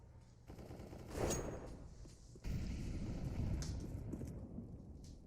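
Counter-Strike: Global Offensive gunfire during a competitive match: muffled bursts of shots rattle under a dense, noisy game soundscape, quieter at first and then a heavier sustained stretch of firing.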